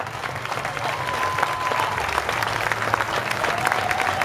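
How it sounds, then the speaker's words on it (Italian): Audience applauding after a Latin-style dance show, a dense, even wash of clapping from a crowd held at a steady level throughout. "Quindi ragazzi, prendete ancora il vostro ultimo applauso."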